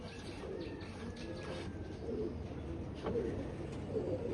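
Teddy pigeons with milk-white eyes, a Pakistani imported bloodline, coo in low, soft, repeated murmurs close by, with a few faint chirps and steady background noise.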